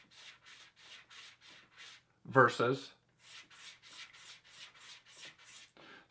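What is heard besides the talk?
stropping a straight razor on a hanging strop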